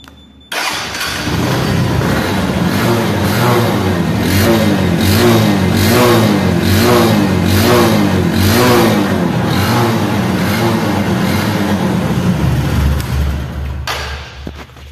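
A Bajaj Discover 125 motorcycle starts abruptly, then idles loudly close by with rhythmic rises and falls of revving for about fourteen seconds before cutting off.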